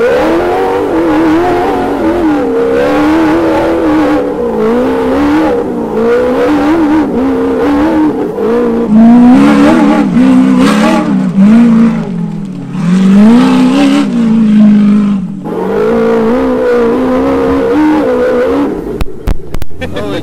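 An off-road vehicle in four-wheel drive crawls over a rock face, its engine droning and revving loudly and continuously with a shifting pitch. Voices talk over the engine noise.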